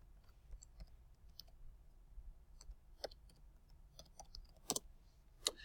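Light, sparse clicks of typing on a computer keyboard, scattered irregular keystrokes heard faintly and close in a quiet room with no talk.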